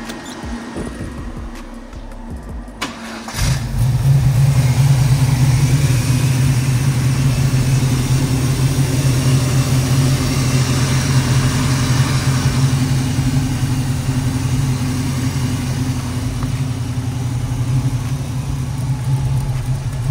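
An Oldsmobile Cutlass engine with a faulty carburetor starts up after a few seconds of quieter noise, then idles loudly and steadily nearby with a rough, droning hum.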